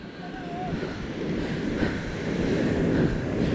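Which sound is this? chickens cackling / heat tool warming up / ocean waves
ocean waves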